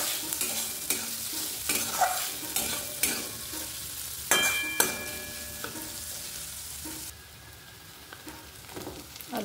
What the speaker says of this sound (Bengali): চলো পেঁয়াজটা এবার একটু ভেজে নেব